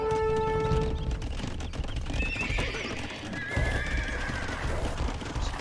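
Scout cavalry horses in a strategy video game neigh and whinny in a couple of clear calls over busy clip-clop hoofbeats and other battle effects, with no talking.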